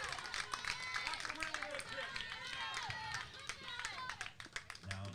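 Gorham, Maine fans at a girls' Little League regional baseball game make a steady roar of cheering and shouting after a strikeout, a dense crowd noise with individual voices rising and falling throughout.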